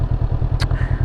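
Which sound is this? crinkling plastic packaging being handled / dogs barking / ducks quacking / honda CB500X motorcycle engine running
honda CB500X motorcycle engine running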